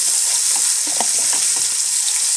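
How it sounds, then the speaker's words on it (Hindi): Oily sizzling and crackling of garlic, ginger and chili paste frying in a pan, a steady close hiss with small pops and stirring scrapes, no voices. "इसको मैं थोड़ी देर तक फ्राई कर लूँगी"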